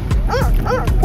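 Dogs at an anchorage in Antigua and Barbuda give short yipping barks and whines, loud and close, two or three quick calls in about a second over background noise.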